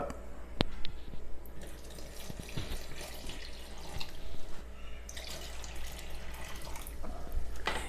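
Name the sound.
water being added to rice flour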